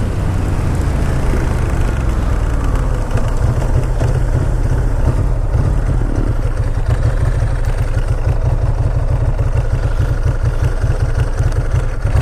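A Ducati ST4 motorcycle engine runs at a steady idle, its low, even throb loud and close, with a faint mechanical clatter and no voices.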